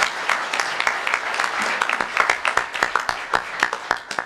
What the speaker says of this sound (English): So he deserves a round of applause from this crowd.